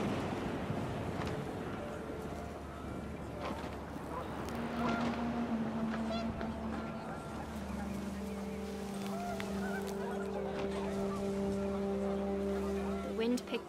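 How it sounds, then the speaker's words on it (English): Panicked geese honking in the video game What Remains of Edith Finch, a flurry of overlapping calls over a steady wind and water rumble, with narration running underneath. "panicked geese appeared and quickly went"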